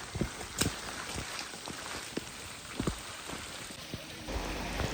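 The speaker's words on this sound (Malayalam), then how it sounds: "നല്ല മഴയുണ്ട്" Heavy rain patters steadily with scattered louder drops and taps, a soft outdoor wash at moderate distance at Matheran, no voices.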